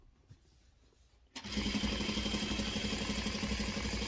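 After a quiet second, a sewing machine starts up close by and runs steadily, a fast, even mechanical whir and chatter of stitching binding onto a quilt.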